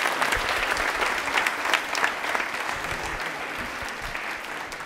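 A studio audience on a Rajasthani quiz show applauds steadily, a dense, even clapping that holds at full strength for several seconds with no talk over it.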